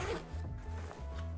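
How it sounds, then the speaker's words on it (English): A chunky YKK zipper on the rear compartment of a Bellroy Flight Bag is pulled open in a few quick rasping strokes, close and clear with no talking. "We have another chunky YKK zipper here."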